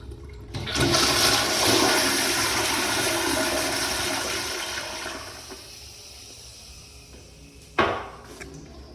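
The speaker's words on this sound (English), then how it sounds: "Now let's get a close-up flush." A toilet flushes up close in a men's restroom at a World Market store, a loud sustained rush of water that tapers off, ending with a sharp clunk near the end.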